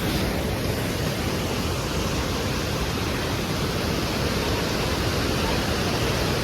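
Fast-flowing river near Kedarnath, its water rushing in a dense, steady roar with no break, heard close up and alone.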